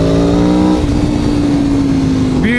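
Aprilia Tuono Factory V4 1100 motorcycle engine droning loud and close, holding a steady pitch before a sharp rising rev near the end, with wind rush underneath.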